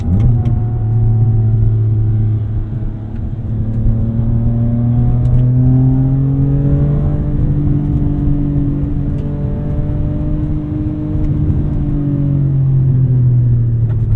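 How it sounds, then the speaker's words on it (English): A BMW E46 M3 engine with about 151,000 miles revs, its induction noise a loud, steady throaty drone that rises and falls in pitch over several seconds, heard up close without speech. "Love that induction noise."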